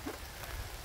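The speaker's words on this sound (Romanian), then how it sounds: "dar începe ploaia" Steady rain pattering on a surface outdoors near beehives, a soft continuous wash of drops with no voices, quiet and even throughout.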